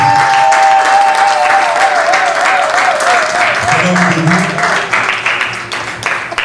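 Church congregation applauding loudly and steadily in a dense, continuous wash of clapping, with a sustained organ or keyboard tone and voices mixed in, the applause thinning toward the end.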